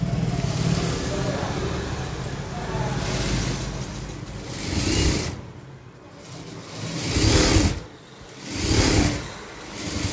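A sewing machine motor whirs steadily while stitching the neckline of a padded blouse with aari embroidery, swelling into three louder bursts of fast running toward the end.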